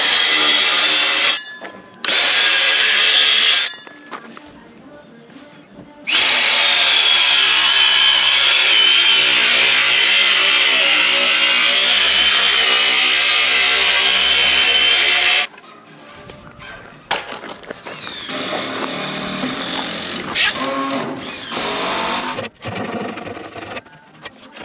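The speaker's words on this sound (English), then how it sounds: "now I will take my circular saw and notch this portion out." A circular saw notches out wood framing on a barndominium build. The motor whines up loudly in two short bursts, then in one long cut of about nine seconds, before settling to quieter running and clatter.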